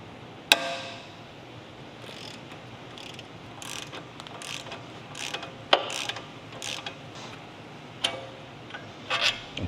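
Ratchet with a T55 bit and 27mm socket working the lower shock mount bolt while fitting Ohlins Road & Track coilovers to a Porsche 992 Carrera: scattered sharp metallic clicks and short ratcheting bursts over a quiet garage background, no talking.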